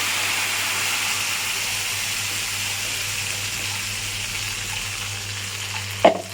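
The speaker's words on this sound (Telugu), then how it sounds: "ఇప్పుడు దీంట్లో ఈ పల్లి మిశ్రమం పోసేయాలి" Peanut chutney mixture poured into a hot tempering of chilli, curry leaves and turmeric in oil, giving a steady broad sizzling hiss with a low hum beneath and a brief sharp clatter near the end.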